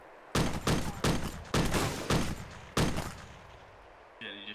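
Gunfire in the Arma 2 DayZ Overpoch survival game, six sharp loud shots spaced about half a second apart, each with a short decaying tail, followed by a brief quieter electronic tone at the end.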